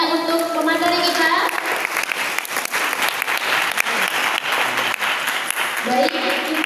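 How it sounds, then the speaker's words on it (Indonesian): An audience applauds a presenter at a seminar, with dense, sustained clapping that continues steadily throughout. "boleh dong tepuk tangannya untuk pemateri kita."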